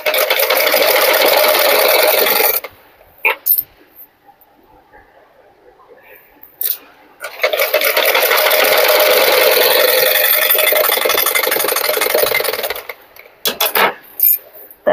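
A sewing machine stitches a blouse in two long, loud, fast runs of steady rattling whir, with a quieter pause between them filled by clicks and handling.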